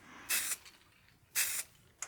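Lacquer from an aerosol can hisses onto figured wood in two short bursts about a second apart, with a brief third puff at the end, close and alone in a quiet room.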